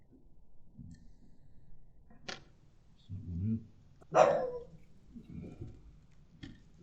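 A dog in a home workshop gives a few sharp barks spaced a second or two apart, clear but moderately distant, amid quiet background noise and some brief talking.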